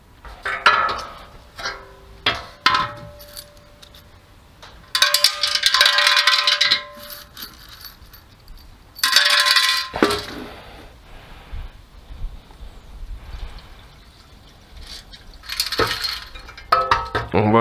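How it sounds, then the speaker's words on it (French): Wood screws and nuts rattling and clinking into a container in bursts of metallic clatter with quiet gaps between, close and fairly loud, with a little speech present. "Je vais rajouter de la visserie, donc vis en bois écrou."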